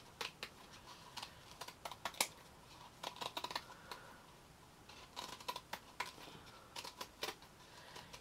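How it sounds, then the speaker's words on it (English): Scissors snipping burlap fabric, a series of sharp, quiet, close cuts in irregular rhythm with short gaps, no voices. "we're going to cut up the rim around there as well"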